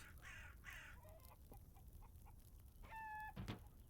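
Chickens and crows in the farming game We Harvest Shadows: a few short clucks and harsh calls scattered over quiet ambience, with a brief tonal chime near the end.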